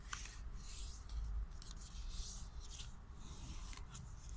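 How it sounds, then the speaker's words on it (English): A square sheet of origami paper is folded in half, with soft continuous rubbing and creasing of paper close by, no talk. "So we fold half the paper."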